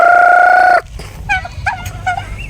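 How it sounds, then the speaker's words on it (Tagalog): Turkeys in a backyard pen gobble in short, bubbling bursts after a loud sustained call breaks off, close and clear with no talking. "Ayan, ito na po yung aking mga pabo"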